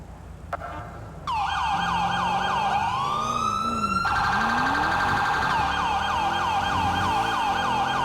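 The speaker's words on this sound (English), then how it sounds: "Going to another property alarm." Property alarm siren in the video game GTA, a loud continuous wailing siren with a repeating warble that starts abruptly and sounds steadily close to the end, joined by a second rising tone partway through.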